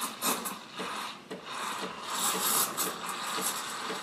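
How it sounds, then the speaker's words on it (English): Steam wand on a Breville Barista espresso machine stretching milk for a cappuccino, a steady close hissing, rasping whoosh with slight pulsing, continuous and without talk. "This time right now is when we're stretching the milk and giving it that nice microfoam."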